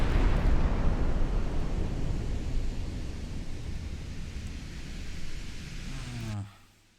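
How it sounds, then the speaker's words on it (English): Massive explosions from warships destroyed in a naval battle in the video game Ultimate Admiral Dreadnoughts, a loud broad roaring blast that slowly fades over several seconds before cutting off abruptly. "And boom, another group of ships gone."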